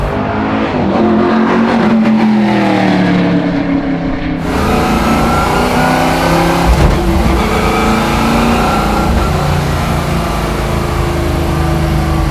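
A NASCAR-powered V8 Camaro with straight-cut gears revs loudly and continuously up close, its pitch climbing and dropping through gear changes while driving, with no talking.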